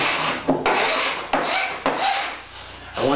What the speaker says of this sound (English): Just run the cabinet scraper along, smooth out